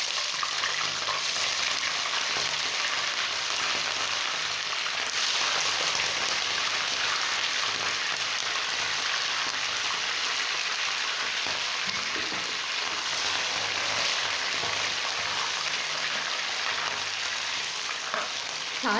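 Chicken frying in a cup of hot oil in a karahi on a lit stove makes a loud, dense, continuous hiss that holds steady with little variation throughout.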